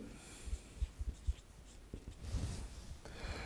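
Pen writing on paper while working a math problem, a short run of soft scratchy strokes and taps close to the microphone, followed by steadier scribbling.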